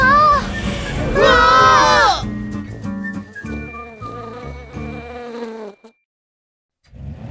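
Cartoon bees buzz over excited, high-pitched cartoon voices and musical tones, the sound busy and loud before thinning out and dropping to near silence at the end.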